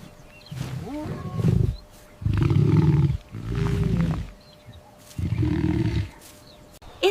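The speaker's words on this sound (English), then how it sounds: "It's a lion." A lion roars in several deep, loud bursts, each lasting about a second, with short pauses between them, heard clearly and alone.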